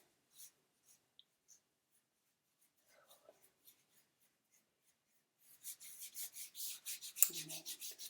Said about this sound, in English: Warm it up, rub the skin